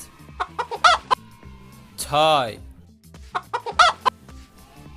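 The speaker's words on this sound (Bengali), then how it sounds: "আটটি মুরগি" Short bursts of chicken clucking and a drawn-out fowl call from a Bengali counting song for kids, mixed with a voice counting aloud.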